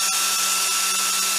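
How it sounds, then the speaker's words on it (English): A hairdryer blows hot air into a balloon, giving off a loud, steady, close whirring roar for the whole stretch, broken only by a few faint clicks. "switch on your source of hot air, the hairdryer"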